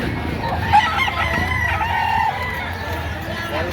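A bullstag rooster crows at mid distance over a steady background hum, with faint clucking and murmuring voices around it.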